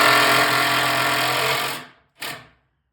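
Power driver spinning screws into a warped garage shelf board, a loud steady whine running for nearly two seconds, then a brief quieter burst as the screw seats.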